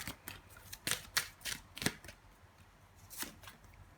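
Angel oracle cards are drawn and shuffled from a deck, a series of soft, quick papery flicks and slides, close and quiet, in irregular bursts with short pauses between.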